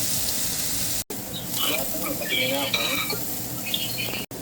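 Garlic sizzling in hot oil in a pan, a steady close crackle broken by scraping stirs of a utensil, with a voice talking over it and two abrupt cuts in the sound.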